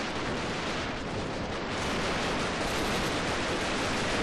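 A loud, sustained roar of broadband noise from a grenade explosion in the video game Freeman: Guerrilla Warfare, like a close explosion rumbling on for several seconds with no quieter gaps.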